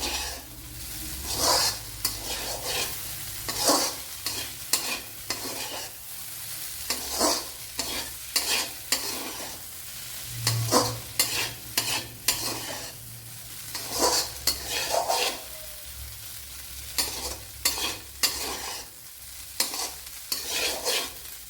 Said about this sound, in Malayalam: അപ്പോഴേ പാത്രത്തിൽ പിടിക്കാതെ കൊണ്ട് നല്ലവണ്ണം ഇളക്കി കൊടുക്കണം